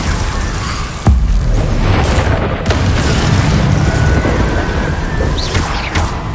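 Incendio fire spell blasts cast against Inferi in Hogwarts Legacy, a loud booming burst followed by sustained crackling, whooshing fire noise and a few further sharp pops.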